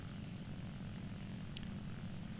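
A propeller fighter plane engine drones steadily in War Thunder, a close, even buzzing hum with no voices over it.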